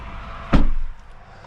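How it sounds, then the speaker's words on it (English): A single solid thump of a 2024 VW Golf GTI 380 SE door shutting close by, followed by a brief muffled settling in a quiet interior. "Door closes with a nice sound."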